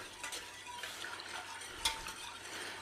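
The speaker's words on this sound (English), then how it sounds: "chuck it all in and give it a stir" A spoon stirring milk into a thickening sauce in a pan, with soft scraping and liquid swirling close up, a single sharper clink of utensil on pan near the middle, and no talk.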